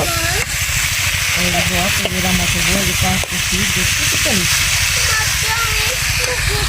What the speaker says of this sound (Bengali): সবজিটা কি সুন্দর করে পাকাই দিচ্ছি